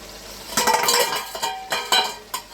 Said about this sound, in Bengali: ঢাকনাটা একটু খুলে দেখি কি অবস্থা।